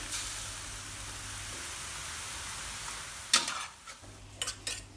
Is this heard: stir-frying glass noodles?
yes